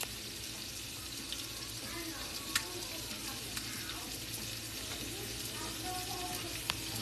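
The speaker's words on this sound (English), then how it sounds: "I'm putting the bread in. I'm going to let this soak while I fry it up." Bread frying in a pan for a panzanella salad, giving a steady close sizzle with occasional clinks and stirring noises.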